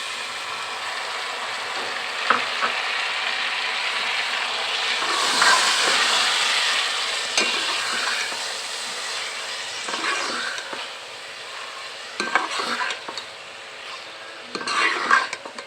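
Chopped tomatoes hit a pan of browned onion, garlic and ginger for a red kidney bean (lobia) masala, giving a steady close sizzle and hiss with bursts of stirring scrapes, no voices.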